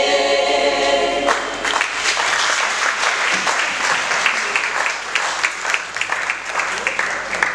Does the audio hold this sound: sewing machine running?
no